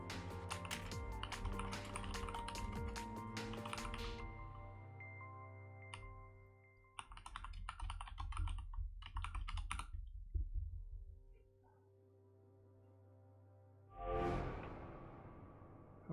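Rapid clattering keystrokes on a computer keyboard in the hacking game Hacknet, in quick bursts separated by pauses, over a steady tonal game soundtrack.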